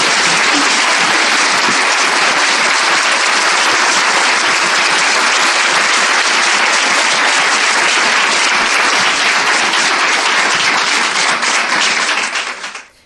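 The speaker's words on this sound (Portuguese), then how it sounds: "a todos vocês, um aplauso de Guadalajara, México." A church congregation at a Bible study in Guadalajara, Mexico, bursts into dense, sustained applause that stays loud for about twelve seconds and then quickly dies away.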